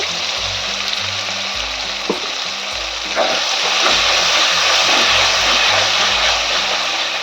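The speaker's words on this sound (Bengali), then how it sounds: "টমেটোটা দিয়েও আমি কিছুক্ষণ নাড়াবো যে মশলাটা করেছিলাম আমি সে মশলাটা দিয়ে দেব" Tomato and spice masala stirred in a frying pan, a loud steady sizzle with occasional spoon knocks, the frying growing slightly fuller partway through, close and continuous.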